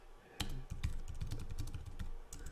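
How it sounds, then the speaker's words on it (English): Someone types on a computer keyboard in quick, irregular bursts of sharp clicks, close up and fairly quiet, with no voices over it. "we can start typing if you want."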